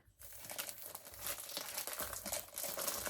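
Holiday gift packaging crinkles as a Christmas present is opened, giving a quiet, close and continuous rustle lasting a few seconds.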